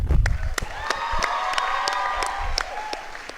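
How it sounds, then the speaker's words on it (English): Lively applause and cheering from a graduation ceremony audience for a string ensemble, with sharp distinct claps and whoops over a warm crowd wash, a low thump at the start and near the end. "Can we get a huge round of applause for the string ensemble, please?"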